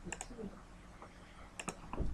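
Computer keyboard clicks as code is typed, scattered quick keystrokes in small bursts with pauses between, close and fairly quiet.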